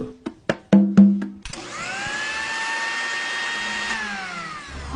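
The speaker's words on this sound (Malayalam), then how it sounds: "എന്തോ അടുക്കളയിൽ മിക്സി ഓണായി." A kitchen mixer grinder switches on after a few sharp knocks and clicks, then whirs with a steady, rising motor whine that holds for several seconds.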